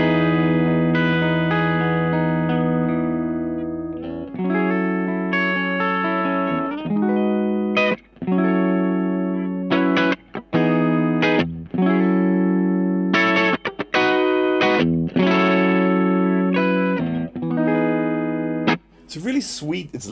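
Overdriven electric guitar on a Fano Omnis MG6 bridge pickup, loud and close, playing sustained chords and riffs broken by short choppy stops, with a brief noisy scrape at the very end.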